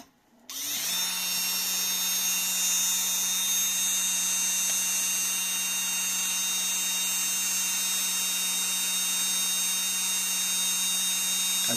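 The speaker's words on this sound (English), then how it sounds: "let's see what's the RPM of this motor" A 775 electric motor spins freely during an RPM test, starting with a quick whir-up and then holding a steady, loud, high-pitched whine with a constant hum throughout, alone and close.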